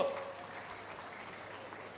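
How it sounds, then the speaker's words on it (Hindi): A crowd at a public unveiling ceremony in Prayagraj applauds for a state minister, a fairly faint, steady spread of clapping that sounds somewhat distant and muffled throughout. "उनके लिए भी ताली जोर से बजाइए।"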